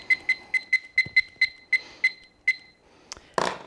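A handy kitchen timer, being set before baking carbonara mac and cheese, gives about eleven sharp, close beeps at an uneven rhythm as its buttons are pressed. Then come a few soft clicks and a rustling clatter.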